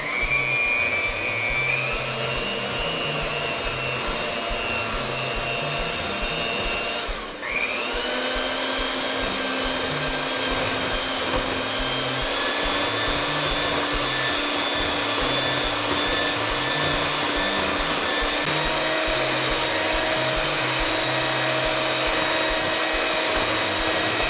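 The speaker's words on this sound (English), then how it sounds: "we're going to start beating them with the hand mixer" A hand mixer beats eggs with sugar, whining at a steady high pitch that briefly dips and recovers, then runs on continuously at close range with no voices.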